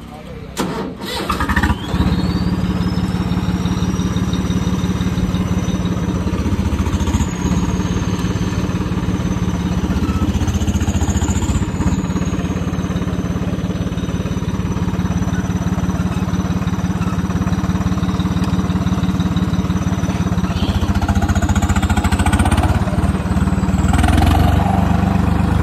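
A Swaraj tractor with a modified pump, its engine catching at the start and then running loud and steady throughout, a close continuous diesel drone with slight swells in pitch.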